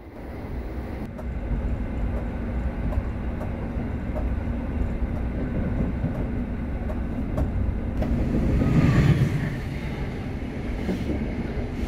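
Continuous low rumble and rattling inside a moving Malioboro Ekspres passenger train carriage between Yogyakarta and Malang, Indonesia, steady wheel and track noise with a brief swell of higher clatter near the end.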